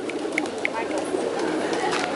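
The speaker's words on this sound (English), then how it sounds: "Okay, I'm going to feed the pigeons now." Pigeons at a park feeding spot in Puerto Rico give a few soft coos and short calls over a steady outdoor bustle, while a person talks close by.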